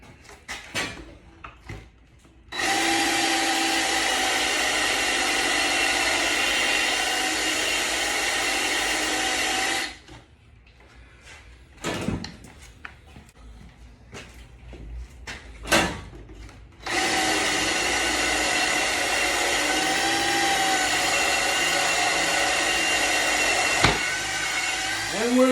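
A cordless drill with DeWalt bits bores through steel for a handmade steel target stand, a loud steady whine in two long sustained bursts separated by quieter clatter and handling noise.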